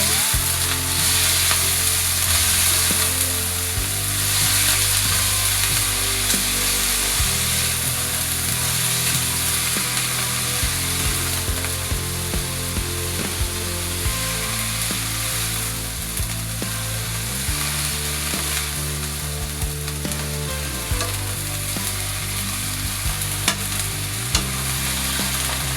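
Vegetables for pancit sautéing in a pan, a continuous loud sizzle with stirring scrapes under steady background music with a repeating bass line.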